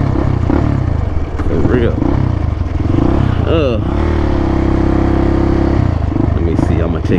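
A Suzuki LTZ 400 ATV engine droning steadily while being ridden, loud and close, with the pitch shifting briefly as the throttle changes, under someone talking.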